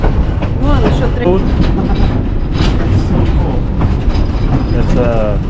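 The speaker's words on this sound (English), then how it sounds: "The locomotive hauling our train today is an Alco diesel." An Alco diesel locomotive hauls a scenic railroad train near Mt Rainier, with steady loud rumbling, rhythmic wheel clatter and occasional squeals from the cars, filling the whole stretch without pause.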